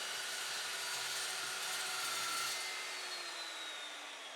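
An Evolution S355MCS metal chop saw cuts through a clamped metal bar, giving a steady, faint, high grinding whine that holds level, then slowly tapers off at the end.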